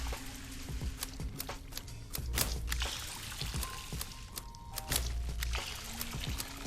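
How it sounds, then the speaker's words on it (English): Plants are watered in the Weedcraft Inc game, with short soft pouring and trickling splashes repeating at irregular intervals over a quiet background. "Guess we'll water first."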